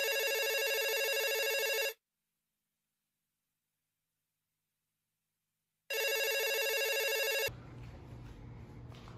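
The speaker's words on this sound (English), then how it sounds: "I woke up to the phone ringing" A telephone rings with a loud electronic bell, one long burst, then a silent pause, then a second burst that cuts off into low background hum.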